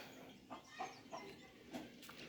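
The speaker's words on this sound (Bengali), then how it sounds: "এই যে মুরগি মোরগ সবই আছে এখানে" Chickens and roosters in a backyard, several faint soft clucks scattered at irregular intervals over a quiet outdoor background.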